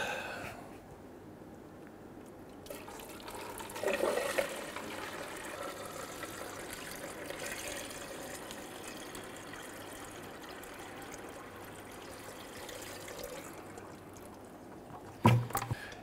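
Water pours steadily into a bucket with a vent hole for several seconds, a soft continuous trickle with a brief louder splash or clunk near the end.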